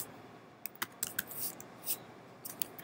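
Sparse, irregular keystrokes on a computer keyboard as a holiday greeting is typed, faint and close with scattered clicks and short gaps, no talking.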